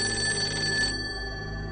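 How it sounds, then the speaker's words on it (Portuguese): An old rotary dial telephone in an abandoned house rings with a steady, continuous metallic bell tone that thins out partway through, alone and fairly close. "O telefone de disco, aquele que estava no quarto, começou a tocar."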